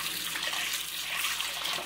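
Hot water runs from a kitchen tap while a skillet used for eggs is rinsed, a steady close splashing rush with no talk.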